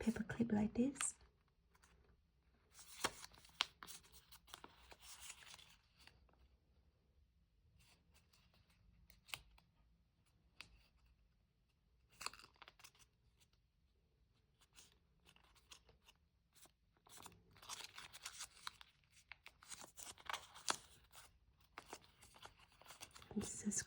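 Paper being folded by hand to make a small kimigami mini book with a paper clip, giving soft, intermittent crinkles and creases at close range between stretches of near silence, with occasional quiet talk.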